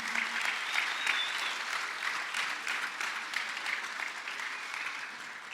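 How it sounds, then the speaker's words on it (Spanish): Steady applause from a church congregation during a sermon, a dense wash of clapping held evenly for several seconds at moderate volume with a faint tone underneath. "Podemos dar otra ofrenda de aplausos al Señor."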